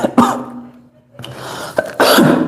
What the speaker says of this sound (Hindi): थोड़ा तबीयत खराब है, खांसी आ रही है